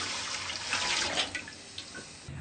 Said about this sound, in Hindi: सबसे पहले हम इसमें दूध डालेंगे।